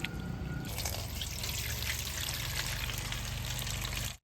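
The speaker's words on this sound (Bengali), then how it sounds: "চিরাটা জল দিয়ে ভিজিয়ে ধুইলে সুন্দর নরম হবো।" Water trickles and sloshes as flattened rice (chira) is washed and soaked by hand in a bowl, a continuous close wet swirl that cuts off abruptly at the end.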